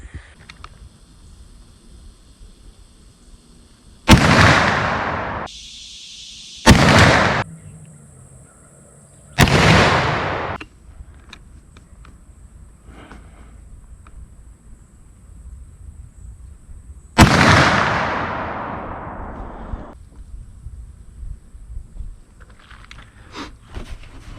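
Four loud black powder rifle shots fired as a three-shot group with Hornady bullets, each a sharp boom with a long rolling decay, the last ringing out longest, spaced several seconds apart outdoors with no talk.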